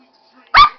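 A single sharp dog bark, close and loud, rising out of near silence after faint background murmur.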